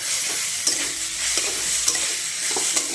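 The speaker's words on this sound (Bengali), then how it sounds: "আমি একটু আদা বাটা দিয়ে দিচ্ছি।" Ginger paste goes into a frying papaya curry with lentil dumplings. A bright, steady sizzle runs throughout, with intermittent stirring scrapes and small clacks from a utensil, close and loud.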